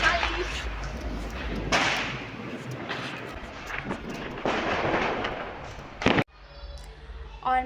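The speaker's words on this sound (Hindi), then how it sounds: "बाहर बहुत शोर हो रहा था, पटाखे फूट रहे थे" Diwali firecrackers burst outdoors at night, with repeated loud bangs and crackling blasts over a continuous rumbling din, some close and sharp, one abrupt final pop before things quieten.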